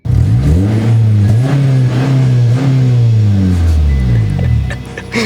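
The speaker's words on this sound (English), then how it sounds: "Let's get some revs for Whitman" A car engine revs up and holds a loud, sustained drone with rising and falling pitch sweeps over about five seconds, close and dominant, then drops off near the end.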